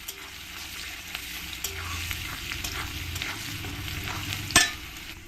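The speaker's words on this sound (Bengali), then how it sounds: "রসুনটাকে আমি ভালো করে লাল লাল করেই ভেজে নেব।" Crushed garlic fries in oil in a pan with a steady, close sizzle and stirring scrapes, ending in a sharper clatter near the end.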